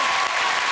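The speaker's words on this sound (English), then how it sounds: "Let's do a round of applause." A studio audience gives a brief, steady burst of dense applause, loud and close, with no talk over it.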